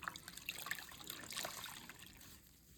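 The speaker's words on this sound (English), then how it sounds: "Then I'm going to rinse." Water trickles and splashes steadily as a washcloth is rinsed during a bed bath, soft and close, with small drips and sloshes fading toward the end.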